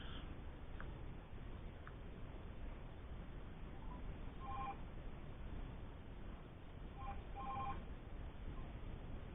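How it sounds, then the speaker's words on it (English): A Samsung S7 (SM-G930F) sounds faint keypad tones while a call is dialed, a few short beeps scattered among quiet background hiss, with small clusters of presses near the end. "Maybe we'll try a phone call. Let's ring my home."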